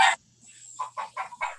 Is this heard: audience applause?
no